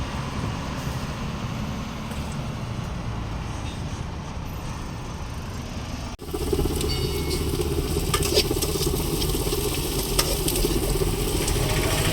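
Small onions frying in a pan give a steady, dense sizzle that runs the whole time, growing slightly louder and fuller partway through, with no speech over it.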